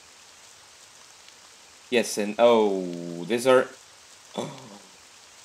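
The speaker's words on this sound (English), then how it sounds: "It started raining in the room." Steady, soft indoor rain falls in the video game Ib remake, a faint hiss running throughout while a person talks over it.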